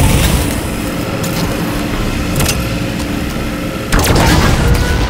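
Gunfire and heavy explosions hit a pulse generator aboard the Kraken in the video game Halo 5: Guardians, a steady loud roar of combat rumble with a sharp burst near the end.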